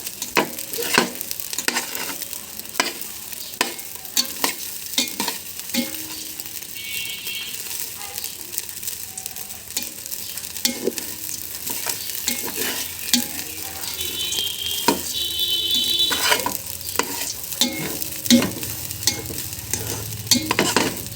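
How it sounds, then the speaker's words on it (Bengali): Rice for restaurant-style Bengali khichuri fries in a pan, with repeated scraping stir strokes over a steady sizzle, close and fairly loud. "এখানে যে আপনি সময় নেবেন খিচুড়ি ভাজা, এই চাউলটা ভাজার জন্য"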